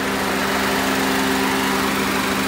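A car engine idles steadily while its AC system is being recharged with gauges, giving a constant loud mechanical hum with a fixed low drone and hiss throughout, no changes in rhythm or voices.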